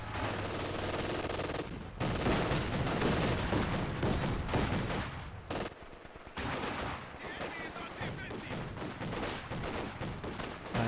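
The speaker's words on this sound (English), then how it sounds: "there's a rifle grenade as the conscripts get into cover there" Busy Company of Heroes 2 battle with dense rifle and machine-gun fire and a rifle grenade going off as conscripts take cover, bursts and blasts overlapping continuously with short lulls.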